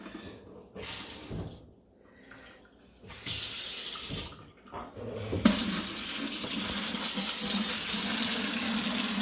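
Water runs from a sink faucet into a bucket, rushing and splashing loudly in bursts that stop and start, then flows steadily and fills close by.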